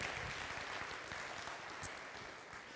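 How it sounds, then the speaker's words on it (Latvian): Faint applause from an audience at a talk, a soft, steady patter of many hands clapping heard from a distance for a few seconds. "Aplaus arī galvaspilsētai."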